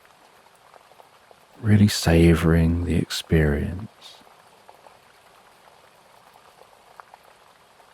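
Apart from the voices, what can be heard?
rain falling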